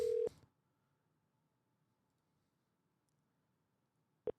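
A phone call being dialed and going unanswered: a short dialing tone burst at the start, then long near-silence with a faint hum, and a single brief beep at the end. No one speaks.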